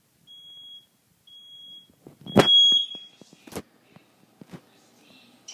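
A Nest Protect and household smoke alarms go off during a test: two faint steady beeps, then a loud sharp alarm burst with a piercing tone, followed by scattered clicks and softer chirps, all fairly close.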